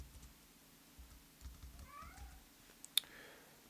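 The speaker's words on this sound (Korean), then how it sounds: "고양이가 놀아달라고" A house cat meows softly to be played with. A couple of faint, wavering cries sound quietly in a room, against light keyboard clicks and low background rumble.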